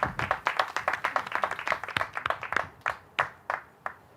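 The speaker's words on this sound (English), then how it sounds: "Let's give them a round of applause." Applause for a team of nurses who raised over $2,000 at a St. Baldrick's head-shaving fundraiser, a small group clapping briskly, then thinning out into a few scattered, separate claps.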